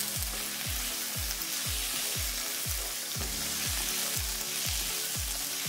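Bacon and onions fry in a pan for rosé tteokbokki, a constant bright sizzling hiss with a regular pulsing low thump beneath it.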